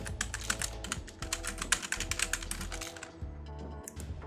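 Rapid clattering keystrokes on a computer keyboard while entering JavaScript code, a dense, close run of taps that thins out near the end, with no voice.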